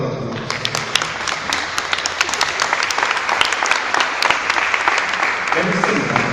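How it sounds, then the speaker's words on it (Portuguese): A church prayer-group congregation applauds with full, lively clapping close by, and it runs for several seconds before a voice starts talking near the end. "Vamos aplaudir a palavra de Deus."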